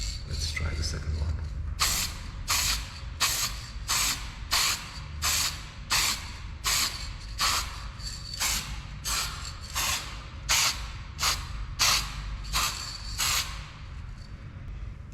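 Spray paint is applied to a VW Sharan headlight washer cap in short repeated hissing bursts, roughly one every second, close and fairly loud over a low background rumble.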